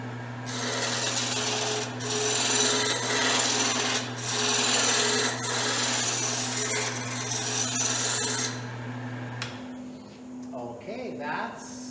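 Wood spindle spinning on a lathe as a spindle gouge roughs it down, giving a loud continuous scraping rasp over a steady motor hum, with a brief quieter stretch near the end.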